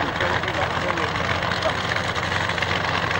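Aircraft engines rumble steadily as vintage planes, including a Merlin-engined Mark 9, taxi past at the 1996 Army Air Corps Middle Wallop airshow, a continuous broad drone with a voice talking faintly over it.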